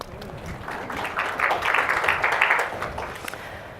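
A marketing conference audience gives a short round of applause, a moderate wash of many hands that swells in the middle and eases off, with faint background murmur.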